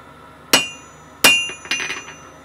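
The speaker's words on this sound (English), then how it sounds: "Now it's cupping, so I'm straightening it on the anvil." A forged metal bottle opener, cupped out of shape, is straightened with two sharp ringing hammer blows on an anvil, followed by a few lighter metallic taps and clinks, close and alone.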